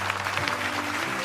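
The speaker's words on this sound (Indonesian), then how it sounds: "Kita berikan tepuk tangan ya." Studio audience applauding guests on a television talk show, a brief burst of steady clapping from many hands with a low hum running beneath it.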